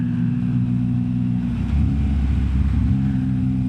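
A 2021 Yamaha MT-09 motorcycle engine runs loud and close, its steady low rumble swelling briefly as the throttle is blipped midway, with no talking over it.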